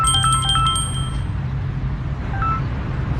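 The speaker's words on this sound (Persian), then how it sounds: "آیفون 17 تون زنگ میخوره." An iPhone 17 ringtone chimes in a quick run of bright, bell-like tones, then fades, with a faint repeat near the end over steady low background rumble.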